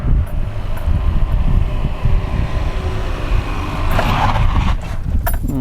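A Fiat Panda on Semperit AllSeason-Grip tyres during a brake test, heard from inside as a loud, steady rumble of road and wind noise, with a brief brighter rush near the end.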